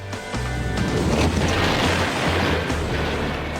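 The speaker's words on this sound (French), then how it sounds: "On a une explosion!" A deep, rumbling blast from an exploding portable construction-site toilet swells up and roars on for a few seconds, heavy and loud, with a low booming undertone.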